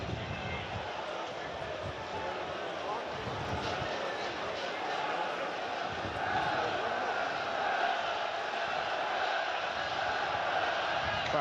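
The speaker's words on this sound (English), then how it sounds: "Crowd doing their bit to keep the Sunderland team going" A Sunderland home football crowd roars and murmurs steadily inside the stadium during a goalless league match against Bristol City, a dense continuous wash of voices under a commentator talking.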